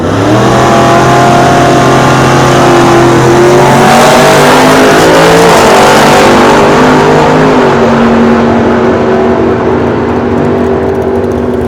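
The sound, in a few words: 1968 Dodge Dart Hemi super stock racing at drag strip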